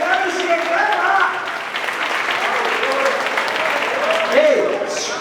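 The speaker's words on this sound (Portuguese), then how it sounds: "dá pra você dar uma salva de palmas pra esse casal?" A church audience at an IECBD 45th-anniversary gathering applauds a couple, with dense, loud clapping that holds steady for several seconds. A voice talks over part of it.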